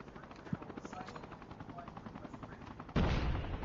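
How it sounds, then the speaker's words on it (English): Video-game combat with helicopters: a fast, steady rotor chop thuds through the scene alongside gunfire, with a louder burst of noise near the end. "We got choppers."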